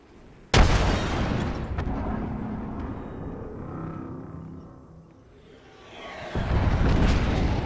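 A frag grenade blast in Apex Legends bursts loud and sudden near the start, then a rumbling game soundscape fades and swells again toward the end.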